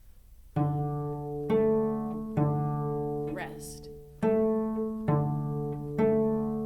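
Six long bowed notes on open strings of a school string instrument, each sustained and steady with a firm attack, separated by short gaps; a voice briefly speaks in between.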